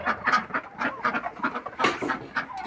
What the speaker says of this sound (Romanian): Vedeți, rațele sunt tot timpul primele.